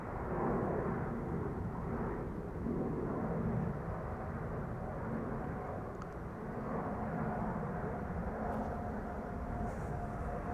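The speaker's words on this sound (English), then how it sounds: "An A350-900." An Airbus A350-900 departing Amsterdam Schiphol Airport, a steady broad jet roar holding at moderate loudness for the whole stretch, with no voices.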